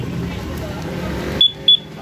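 A Honda Click V3 motorcycle with a two-way alarm gives two short, sharp high beeps as it is switched off by remote, following a stretch of low vehicle noise.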